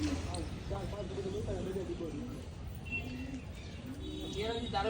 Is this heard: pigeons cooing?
yes